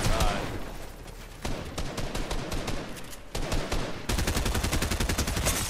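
Rapid gunfire in the video game Fortnite during a wager match, dense bursts of shots in quick rhythmic volleys, loud and near, broken by short pauses, with voices talking over it.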